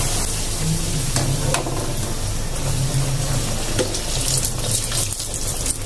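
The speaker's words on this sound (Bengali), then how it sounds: "আলু পুরি ভাজলাম" Aloo puri deep-frying in hot oil, a steady close bubbling sizzle that runs throughout at an even level, with occasional faint clinks of a utensil.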